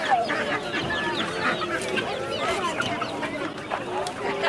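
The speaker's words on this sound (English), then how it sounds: "baby chicks are all over the other side." Chickens and baby chicks at a livestock sales barn, a dense chorus of clucking and peeping with occasional crowing, steady and close, with people talking underneath.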